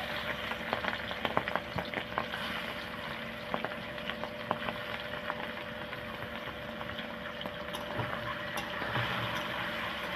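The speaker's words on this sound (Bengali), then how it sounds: "তাই আজকে চিংড়ি মাছটাকে ভেজে নিচ্ছি।" Shrimp frying in hot oil in a pan, giving a steady, dense sizzle with scattered pops and crackles that holds even and close throughout.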